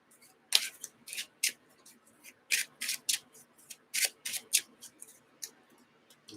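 Cards shuffled back into the deck during an Arkham Horror card game, giving a run of crisp riffling and rubbing bursts at an uneven pace, close and moderately loud, with no talk.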